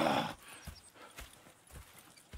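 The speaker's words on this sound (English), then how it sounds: "Go check the horses are ready." Horses in the video game Red Dead Redemption 2 clip-clop in a slow, regular rhythm of hoofbeats, preceded by a brief whinny or snort at the start, heard fairly close at moderate volume.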